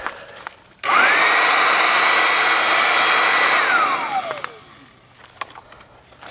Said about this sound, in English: I've got an old air mattress blower